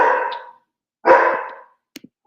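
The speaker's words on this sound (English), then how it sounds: "Sorry about the dogs." Dogs barking loudly at close range during a youth largefowl poultry judging session, two long bark bursts followed by a couple of short, quieter yips.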